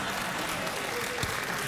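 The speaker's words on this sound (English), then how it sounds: "That's why you're applauding" Studio audience of a late-night talk show applauding in a steady, even wash of clapping that holds at a moderate, fairly distant level throughout.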